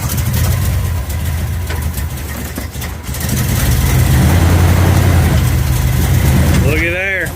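A 1972 Chevelle's engine idles with a loud low rumble, swelling heavier midway as it is put into gear. A voice briefly talks over it near the end.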